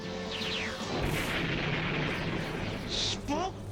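Cartoon gunfire from animated Transformers robots fighting, a dense rolling barrage of blasts and booms with laser-like zaps, loud and continuous for several seconds.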